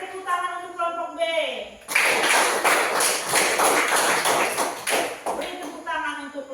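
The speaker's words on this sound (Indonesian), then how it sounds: "Beri tepuk tangan untuk kelompok B." A class of students claps for group B, several seconds of loud, dense, rapid clapping breaking out after a short spoken stretch and stopping abruptly as speech resumes.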